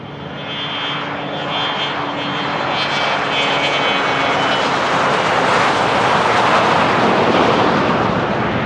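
Private jet taking off on Runway 16R at Van Nuys Airport, a loud continuous engine roar that swells and broadens as it builds power down the runway, heard alone with no talking.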